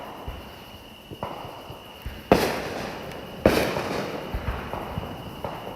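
Fireworks bursting over Peachtree City, Georgia: two sharp, loud booms stand out, with smaller distant pops and crackles between them against a low background.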